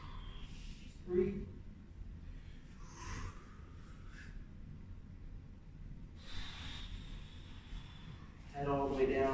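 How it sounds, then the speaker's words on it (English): A person breathes out deeply during a warm-up stretch, making several soft, breathy exhalations and snort-like breaths, close and quiet, with brief pauses between them. "Big breath out."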